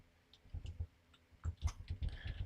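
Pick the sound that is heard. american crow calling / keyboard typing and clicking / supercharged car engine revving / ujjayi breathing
keyboard typing and clicking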